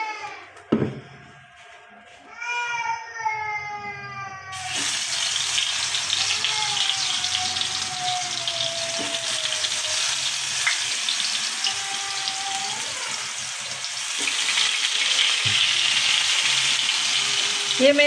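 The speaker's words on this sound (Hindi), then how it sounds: "और अब मैं कबाब फ्राई करने लगी हूँ और मैं ऑयल का इस्तेमाल कर रही हूँ" Frozen kebabs frying in oil in a pan, a loud steady sizzle that starts after a few seconds of quieter kitchen sounds and continues without letup, with occasional clinks.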